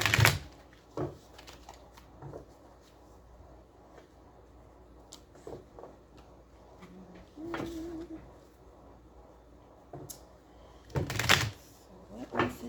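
Tarot cards being shuffled by hand while standing, with soft irregular flicks and a few louder rustles over a quiet room hum.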